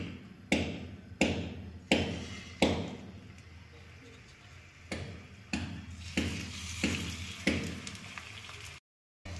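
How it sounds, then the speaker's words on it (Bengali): Papads frying in hot oil in a pan, with a steady sizzle punctuated by a regular series of sharp taps and clatters, close up, while someone talks. "ওই পাঁপড়গুলো তেলের মধ্যে দেব, দিয়ে ভাজবো"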